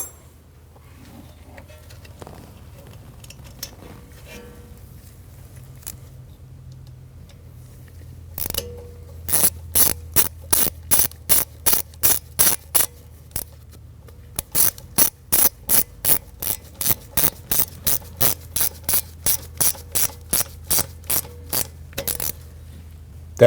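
Ratchet wrench tightening the bolt on a rear ABS wheel speed sensor of a 2013-2019 Ford Escape, a long run of quick, evenly spaced clicks in two bursts after a quiet start, close and clear.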